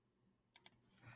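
A few soft, close keystrokes on a computer keyboard, two distinct clicks followed by a faint patter, quiet and alone.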